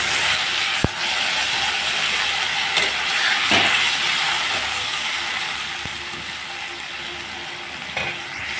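Ridge gourd pieces lightly frying in a pan give a steady, even sizzle and hiss throughout, with a few clicks and small clatters of utensils.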